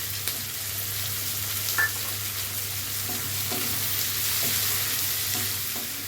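Onion and green chili fry in a pan for a shrimp and taro greens dish, steady close sizzling with intermittent stirring scrapes over a low constant hum.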